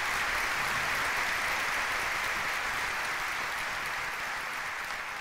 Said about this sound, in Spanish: Un aplauso fuerte también para ellos.